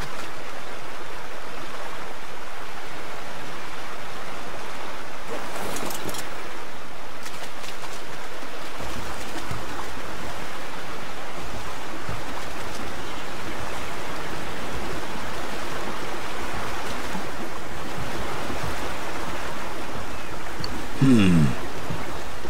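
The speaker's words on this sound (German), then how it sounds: "Zwei Wasserfälle kommen kurz vor meinem Haus." Waterfalls in the video game Ark give a steady, loud rushing roar of falling water that runs unbroken throughout, with no voices over it.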